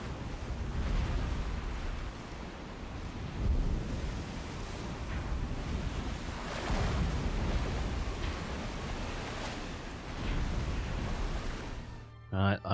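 Ocean waves surge and wash steadily in a WWII Pacific submarine game, Silent Hunter 4, a dense, loud, windy roar with periodic swells rising and falling throughout, ending in a brief cut.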